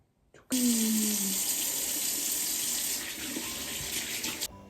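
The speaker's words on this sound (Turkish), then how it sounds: "Şimdi ellerimizi yıkayalım." Tap water running steadily into a sink during handwashing after clay work, a close, continuous rush starting abruptly and stopping after a few seconds.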